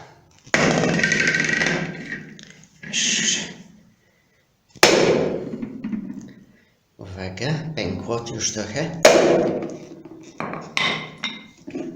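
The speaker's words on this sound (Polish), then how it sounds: "idę rozbijać kokosa. Mam młotek i teraz spróbuję rozbić to." Several heavy hammer blows cracking a coconut, in separate bursts with pauses between, while a person speaks briefly nearby.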